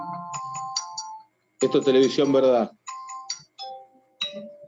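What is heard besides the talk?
telephone ringing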